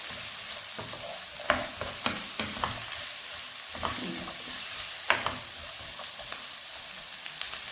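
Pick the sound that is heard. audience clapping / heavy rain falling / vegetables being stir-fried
vegetables being stir-fried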